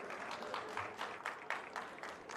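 An audience at an electric vehicles event in Delhi breaks into applause to welcome a speaker, a steady patter of many hands clapping, fairly distant and moderate in level.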